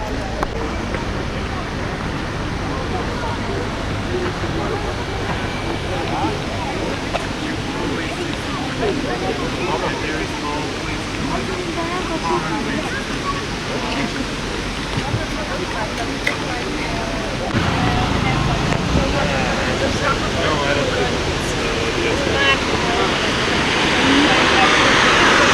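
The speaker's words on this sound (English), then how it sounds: "let's see the waterfall" The Pliva waterfall in Jajce, Bosnia, roars as a broad, steady rush of falling water that grows slightly louder toward the end, with people's voices and crowd murmur mixed into the constant wash.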